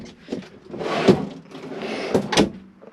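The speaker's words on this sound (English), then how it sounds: "you can also access it from the front by sliding them out" A drawer in a Hymer Classic B654 motorhome slides out with a couple of rattling, scraping rushes, close by, with soft knocks between them.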